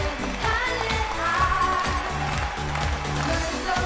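A studio audience at a televised dating show claps steadily for a contestant walking onto the stage, a dense, even patter of applause lasting several seconds.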